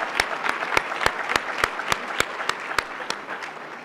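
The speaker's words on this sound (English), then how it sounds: "Let's give them one more round of applause" An audience at a luncheon claps for student award winners, a steady round of applause with individual claps standing out clearly, close and fairly loud.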